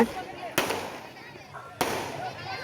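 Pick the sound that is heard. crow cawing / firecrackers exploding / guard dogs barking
firecrackers exploding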